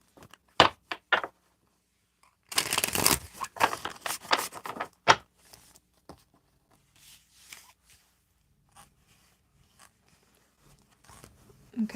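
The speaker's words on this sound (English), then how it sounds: "We're going to shuffle out those energies." Tarot cards are shuffled by hand, with brisk flicking and riffling bursts that come in short clusters at the start and middle, then fade to faint, sparse rustles and taps, close up and alone.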